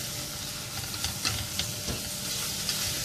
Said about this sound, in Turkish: Biraz da salçamızı kavuralım.